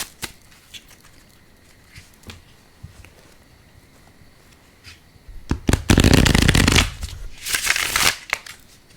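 Oracle cards from the Divine Feather Messenger deck being shuffled, quiet taps and rustles at first, then a loud, close burst of riffling lasting a couple of seconds, followed by a second shorter flurry.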